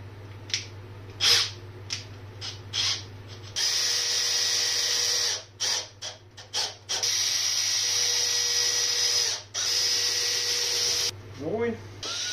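Power drill whirring in bursts while building a gun cabinet, several short runs then a longer steady drilling stretch, close and clear with pauses between.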